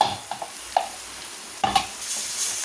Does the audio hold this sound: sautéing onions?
yes